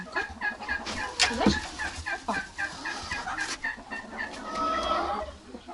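A turkey hen clucks repeatedly while being carried to her nest, giving a close run of rhythmic, slightly strained clucks with rustling handling noise and one sharper squawk early on.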